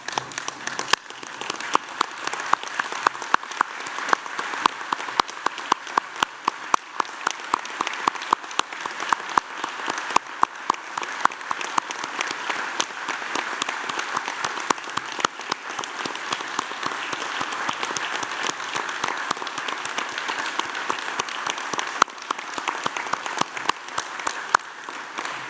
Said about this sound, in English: join me and my colleagues in applauding the wonderful